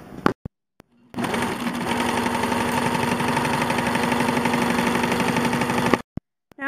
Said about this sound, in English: Now I'm going to sew these two shut.